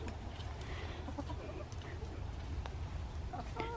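Chickens cluck softly inside a coop, scattered faint calls over a low background hum, with possible murmured voices.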